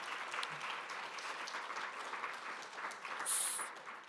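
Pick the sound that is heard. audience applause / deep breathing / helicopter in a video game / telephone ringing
audience applause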